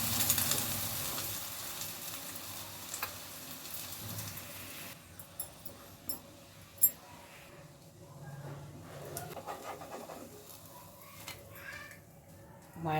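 An omelette sizzles and fries quietly in a pan at home, with a steady soft hiss that fades after a few seconds, followed by scattered light clinks and taps from the kitchen.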